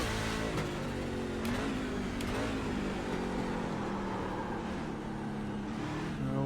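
An engine revs steadily in iRacing on the St. Petersburg street circuit, a racing truck droning loud and continuous with rising and falling pitch and brief shifts, with no voices.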